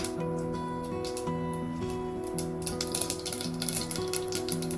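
Mustard seeds hit hot oil for tempering in a home kitchen, giving a close, crackly sizzle with small popping bursts that thicken toward the end, over a faint steady hum.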